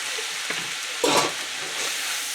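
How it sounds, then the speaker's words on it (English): Noodles and cabbage sear in a hot pan with bratwurst and onion, giving a steady bright sizzle with a louder, crackling surge partway through as the food is stirred. "start searing that right in"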